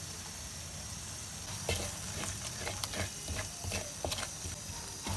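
Mushroom gravy simmering and being stirred in a pan, with a steady close sizzle and bubbling broken by several sharp scrapes and knocks of a spoon against the pan.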